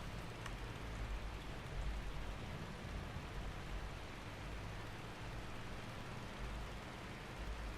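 Steady rain in Farming Simulator 22, a dense, even hiss with low rumbling that persists unchanged throughout, with no voices.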